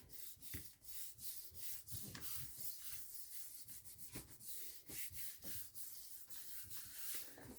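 Acrylic paint is rubbed by hand across a gel pad in a continuous series of soft, scratchy strokes, each rising and fading in an uneven rhythm, close and fairly quiet.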